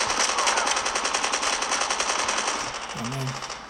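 Rapid machine gun fire rattles continuously in a Call of Duty Mobile match, loud and dense, fading slightly near the end as a voice speaks briefly.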